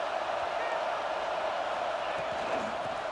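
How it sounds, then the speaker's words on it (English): A stadium crowd roars steadily in EA Sports College Football 26, a broad even wall of cheering noise with no clear peaks under play-by-play commentary. "Listen to the crowd energy here in the early going."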